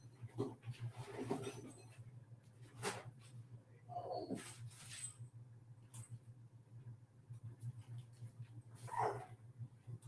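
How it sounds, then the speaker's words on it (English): Several dogs bark in scattered bursts, faint and somewhat distant, over a low steady electrical hum with quiet gaps between the barks. "sorry about my dogs barking"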